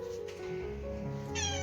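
A cat meows from under a chair indoors, a few drawn-out, rising cries heard close and clear over a low room background.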